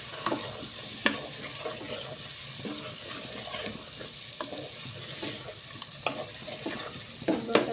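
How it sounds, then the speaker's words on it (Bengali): Potatoes stirred and fried in a pan with pumpkin on the way, a spatula scraping and clicking in irregular strokes over a steady close sizzle. "এরপর আলুটা দিয়ে দিলাম, আলুটা নেড়ে চেড়ে"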